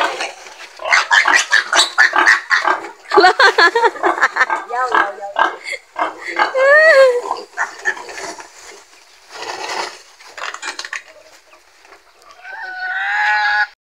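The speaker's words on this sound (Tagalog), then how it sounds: "kinukuha na yung baboy ang liit" High-pitched squeals from a small pig rise over busy talking voices, with a sharper burst of squealing near the end.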